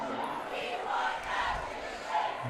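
A high school football cheer squad chants from the stands, a crowd of voices rising and falling in rhythmic shouted waves, heard at a distance across the field.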